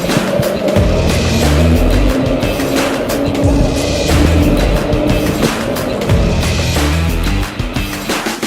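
An electric RoadRunner Pro V2 scooter ridden up a hill in gear 3 gives a loud, continuous motor and tyre rumble with rough wind buffeting, steady throughout and close to the microphone.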